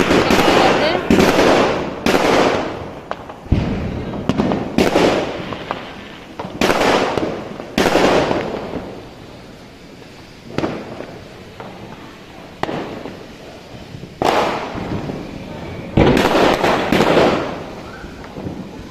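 Butterfly firecrackers going off during Diwali night celebrations, a series of loud crackling bursts repeating every second or two with brief gaps, close by, with voices talking in between.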